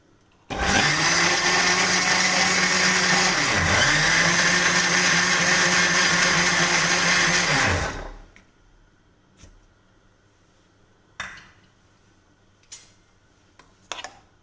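A kitchen blender grinding Oreo biscuits with milk, a loud steady whirring roar for about seven seconds with a brief dip in pitch midway, then stopping abruptly, followed by a few light knocks and clicks.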